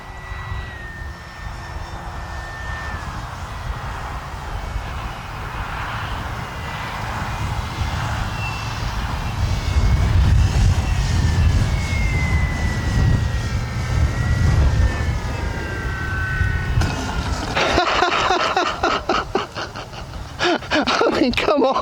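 A Flex Innovations RV-8 G2 RC model airplane engine drones steadily for the whole stretch, rising and falling slightly as it passes, with a harsher buzzing burst near the end.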